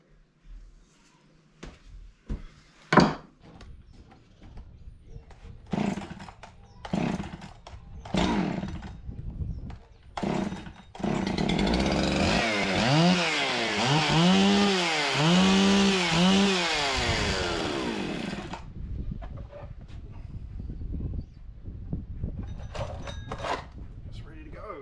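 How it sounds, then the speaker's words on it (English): A small detailing chainsaw with a short pointy bar starts up and runs for several seconds, revving loudly up and down near the listener, after clicks and handling knocks; someone talks before and after. "This is the little detailing chainsaw."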